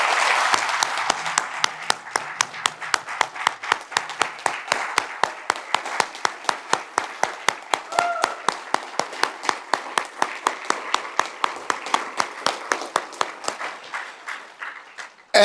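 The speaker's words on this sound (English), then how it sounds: "it would mean a great deal to me if you all would please give him a round of applause" An audience at a South Carolina business gathering gives a round of applause to a departing speaker: many hands clapping in a steady, even rhythm that settles into a regular beat, moderately loud and continuing without talk.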